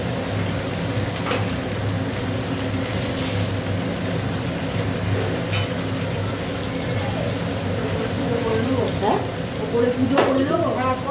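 Cumin paste frying in a hot pan for a home-cooked khichuri meal, a steady loud sizzle running throughout with occasional stirring scrapes, and a voice talking over it.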